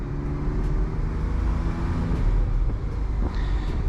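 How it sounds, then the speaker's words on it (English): A 2014 Porsche Carrera S gives a steady, deep engine rumble with a low droning exhaust note throughout, continuous and fairly loud, with no speech. "Car doesn't have a super loud exhaust, but you know what? It sounds pretty darn good"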